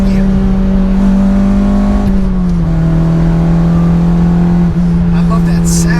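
A loud Acura RSX engine drones steadily up close, its pitch dipping briefly before holding level at high revs.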